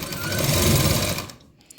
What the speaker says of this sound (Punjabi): ਆ ਦੇਖੋ ਇਸ ਤਰ੍ਹਾਂ ਆਪਾਂ ਸਾਰੀ ਸੀਨ ਲਗਾ ਲੈਂਦੇ ਆ